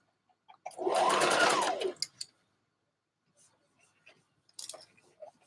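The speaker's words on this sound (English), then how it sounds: "we're gonna start sewing back stitch" A sewing machine stitches a back stitch on a dress in one loud, steady burst of a little over a second, then stops, leaving a few faint clicks and handling taps in a quiet room.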